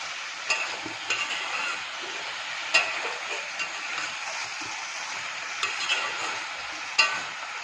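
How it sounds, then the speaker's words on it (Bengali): Winter vegetables and tangra fish cooking down in a pan as a chorchori, with a soft continuous sizzle and light, irregular spoon scrapes and taps throughout. "এবার এরকম করে এটাকে কষাবো যতক্ষণ না সবজিগুলো সব সেদ্ধ হয়ে যায়।"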